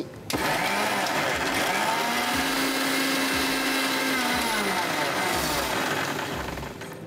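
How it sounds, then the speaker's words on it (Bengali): A blender runs steadily on watermelon for an electrolyte drink, a loud, even whir that starts abruptly and holds for several seconds before tapering slightly. "আমরা ব্লেন্ড করে নিচ্ছি।"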